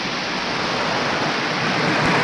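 Heavy rain pours down in a dense, loud, unbroken hiss with no breaks and no voices.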